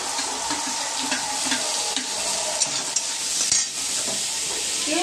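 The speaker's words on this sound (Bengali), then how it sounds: "পেঁয়াজটা ফোড়ন দিয়ে দিলাম।" Steady sizzling of onion and garlic frying in hot oil, with occasional stirring and light clinks of a utensil against the pan; no talking.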